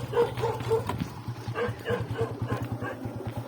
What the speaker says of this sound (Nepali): कुकुर हो यार